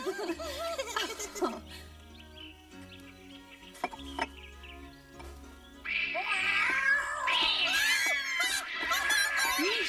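Cartoon cat meowing and yowling in an animated fairy-tale series, with loud drawn-out cries building in the second half over background music.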